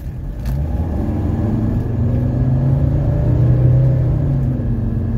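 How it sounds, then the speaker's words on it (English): A 1985 Mercedes 300CD pulls away from a stop at full throttle up a steep hill. The engine drones in a steady, loud, low rumble, the pitch rising slowly as it accelerates, and no one speaks. "We're going to do a little uphill acceleration here."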